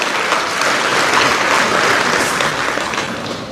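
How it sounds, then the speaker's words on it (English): Crowd applause at a graduation ceremony, dense and loud steady clapping from a large audience that holds evenly and tapers slightly at the end. "Please give him a round of applause."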